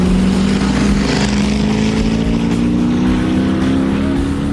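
An AMC Javelin race car on a track shakedown run gives a loud, steady engine roar with a droning low tone that climbs gradually, heard close and continuously with no talk.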